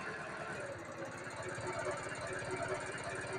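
A car engine idles steadily through a cylinder balance test, its low rhythmic pulsing continuous and fairly loud with a slight knock-like beat, while the RPM dips as a cylinder is cut.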